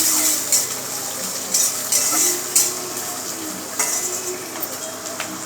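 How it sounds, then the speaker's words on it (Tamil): Onions fry in a pan while being stirred for a spiced intestine fry, with scattered clinks and scrapes of a utensil against the metal over a low, continuous sizzle. "வெங்காயத்தை போட்டு நல்லா வறுக்கலாமா"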